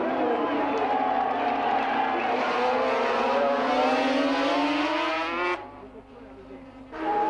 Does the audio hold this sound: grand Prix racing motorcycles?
yes